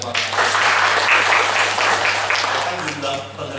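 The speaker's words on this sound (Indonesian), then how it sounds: "Luar biasa, tepuk tangan untuk Pak." At a closing ceremony for a pre-service teacher education program, a hall audience applauds with a dense, sustained wash of clapping lasting several seconds before tapering slightly, with a voice heard under it.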